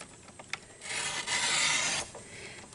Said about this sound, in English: we're just going to trim off just a hair off of this